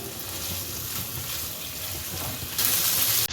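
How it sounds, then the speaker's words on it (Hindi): Beef masala boti frying in a pan as its liquid dries off: a steady close sizzle and crackle that runs throughout and swells sharply louder near the end. "अब इसका पानी ड्राई हो गया है, इसको 2-3 मिनट के लिए अच्छे तरीके से इसको भून लें।"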